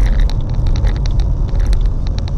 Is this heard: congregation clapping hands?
no